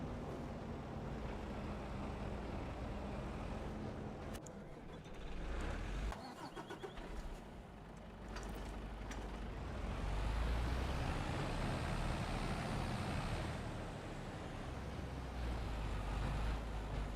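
A semi truck drives in the video game Farming Simulator 25, its engine a loud, continuous rumble. The drone rises and falls, with a brief hiss and a couple of clunks midway.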